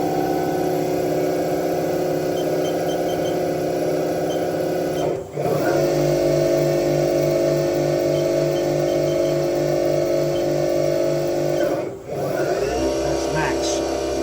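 Spindle of a 2006 Haas TM-1 milling machine running up to 4,000 rpm, a steady loud whine in two stages with a short drop between steps, no talking.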